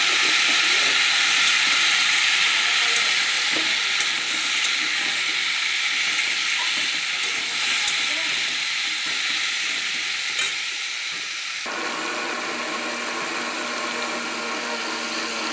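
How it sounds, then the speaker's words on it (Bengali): Potatoes and pumpkin fry in a pan with a loud, steady sizzle and hiss, scraped and stirred at intervals; the sizzle eases somewhat partway through and continues more quietly, with no talking. "আলুটা একটু ভেজে নেবো, তারপরে মিষ্টি কুমড়োটা দেবো।"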